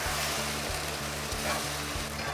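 Garlic sauce bubbles and sizzles in a pan as it thickens for a chicken stir fry, a dense, steady close hiss with faint regular stirring knocks underneath.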